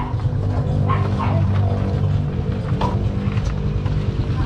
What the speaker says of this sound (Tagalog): Yung mga aso pala.